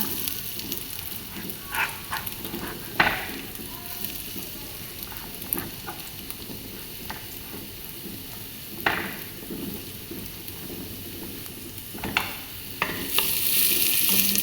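Steady sizzling of ginger frying in a pot, with occasional scraping clinks of a utensil stirring, close and continuous.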